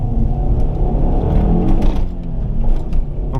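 A 2007 Ford Focus ST with a small turbo revving hard, a loud close engine roar with rising and falling throttle surges and turbo whir throughout, no voices.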